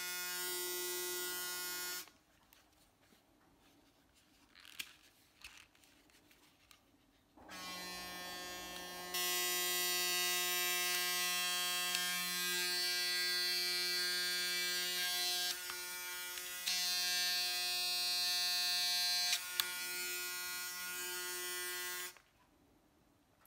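Braun Series 9 Pro electric shaver, model M94 with the shaving head removed, buzzing steadily and fairly loudly in a sustained run of about fifteen seconds, after brief quieter starts, before switching off.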